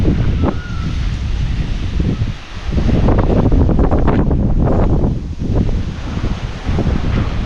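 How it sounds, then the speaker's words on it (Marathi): Strong, steady wind roars outside a homestay, a loud continuous broadband rush with gusts swelling and dipping throughout, buffeting the microphone with no voices. "हे बघा भरपूर म्हणजे भरपूर हवा सुटायला लागले कालपासून"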